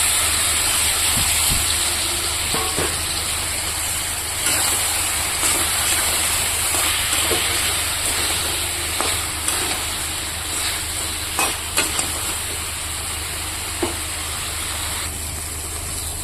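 Soaked meat hitting a hot pan for a Bengali fish-and-greens curry, giving a steady loud sizzle and hiss that fills the whole stretch, with a few sharp clatters and spatters on top.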